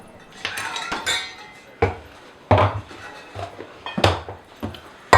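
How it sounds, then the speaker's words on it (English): Dry tortilla ingredients, including Himalayan salt, being stirred in a bowl with a utensil: a series of sharp clinks and scrapes in uneven bursts, close and fairly loud, with no talking. "Mix up your dry ingredients really quick"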